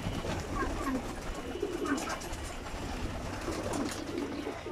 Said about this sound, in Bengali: এই যে এখানে যেগুলো আছে এগুলো ব্রিডিংয়ের কবুতর